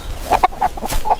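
A rooster in a children's cartoon tale gives a short burst of several close, clipped clucks, loud and alone.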